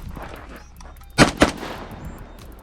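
Two sharp, loud rifle shots from a SIG 5.56 with a SIG red dot, fired in quick succession at a two-gun shooting match, close by, with quieter background noise before and after.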